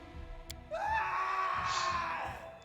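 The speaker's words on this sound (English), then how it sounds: "a scream echoes from the hallway" A single drawn-out scream rises and holds, echoing from a hallway in the fantasy role-playing game Pathfinder: Kingmaker, loud and sustained over a low background murmur.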